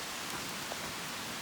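Rain falls steadily on a hiking trail along the Appalachian Trail, a faint, even hiss with a few soft drop sounds and no voices.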